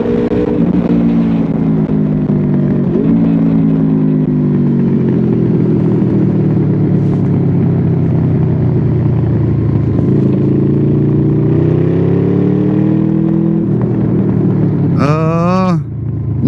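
A 2012 Honda Crossrunner 800 with a VTEC engine idles loud and close with a throaty burble, then revs up several times in smooth rising swells before a sharp high rev near the end.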